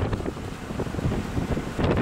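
Strong wind blows across an open village square and buffets the microphone in a continuous, loud rumble with no pauses.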